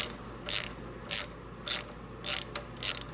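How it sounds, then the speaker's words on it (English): A ratchet wrench loosens the bolt behind the brake lever on a Husqvarna Norden 901 motorcycle, giving six evenly spaced bursts of rapid clicking, each about half a second apart, close up with no talk. "Next, we pull this bolt that's back there behind the brake lever"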